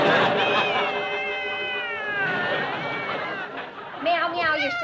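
A cat meows in a drawn-out, wavering cry, followed by a shorter chattering call near the end, heard up close over a faint background hum.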